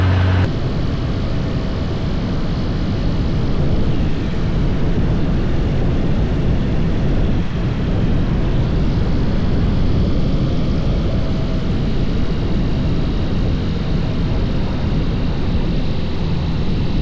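A Kitfox light aircraft engine runs at full power, a loud and steady propeller roar that drones on without letup from near start to finish.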